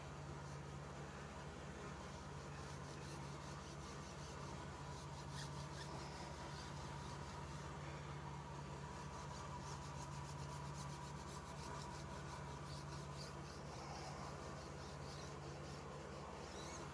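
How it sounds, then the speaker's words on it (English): A 1500 grit scuff pad rubs over a Ford Mach-E wheel under repair in a shop, making a continuous abrasive scrubbing with quick back-and-forth strokes over a low steady hum of background machinery. "Let's go ahead and scuff this up with the 1500 grit scuff pad"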